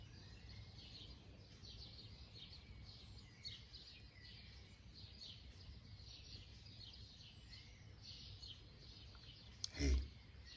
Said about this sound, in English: I'll be quiet for 10 seconds so you can hear the birds this morning.